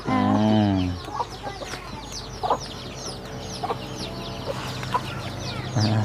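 Farmyard chickens clucking as they are given water, several birds calling near and at varied distances, one louder voiced cluck at the start and scattered sharp chirps and clucks through a steady background hum.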